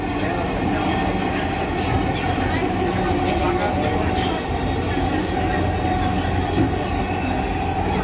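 Steady rumble and rail noise heard from inside an elevated metro train running above Mirpur DOHS in Dhaka, continuous and fairly loud for the whole stretch, with no talk.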